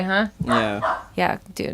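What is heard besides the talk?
dog barking outside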